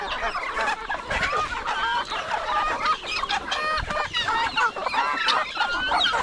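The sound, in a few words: chickens clucking on farm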